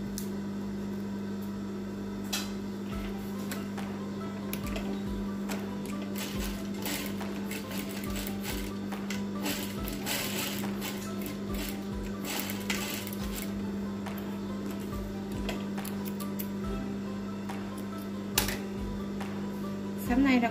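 A sewing machine stitches a fabric face mask, its rapid mechanical chatter running steadily and close under a constant motor hum, with a few sharper clicks near the end.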